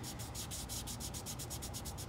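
A fingertip rubs down dry spackling on painted woodwork in quick, steady back-and-forth strokes, a close, soft scratchy friction repeating about six times a second with no voices.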